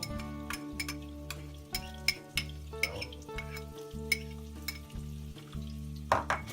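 Hot pepper and garlic sizzling in a hot pan for chicken curry, a steady frying hiss broken by repeated sharp clinks of a utensil against the pan and a low hum throughout.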